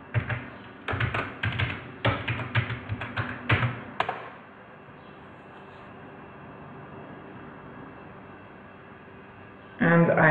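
Username and password typed on a computer keyboard, a quick run of clicky keystrokes for about four seconds before going quiet, near and moderately loud.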